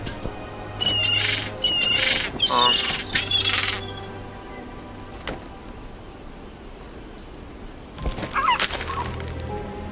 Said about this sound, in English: Let's go get rid of that pesky bird.